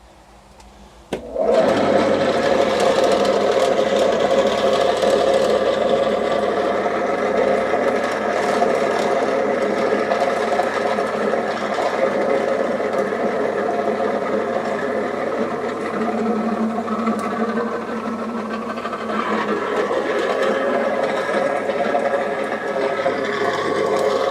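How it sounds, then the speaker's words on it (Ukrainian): Household 220 V feed pellet mill starts abruptly and runs on oilcake, a loud continuous grinding drone with rattling and a low steady hum that carries on for over twenty seconds, no talk. "Ми для цього запускаємо гранулятор. Ми будемо його запускати на макусі."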